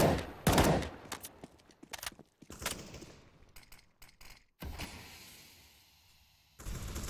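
A gunfire exchange in a competitive Counter-Strike style match: irregular bursts of loud rifle shots and rapid fire, separated by short quiet gaps and ending in a dense volley.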